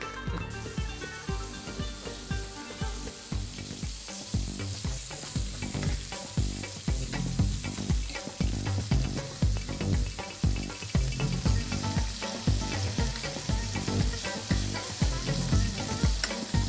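Steady, dense sizzling of chicken and sage frying in hot oil in a pot, continuous and close, with faint stirring clatter throughout and no voices.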